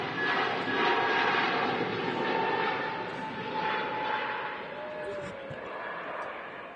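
An EasyJet Airbus A320neo departs Manchester Airport for Sharm with a moderate, swelling engine rush and faint whining tones, gradually easing off, with voices talking underneath.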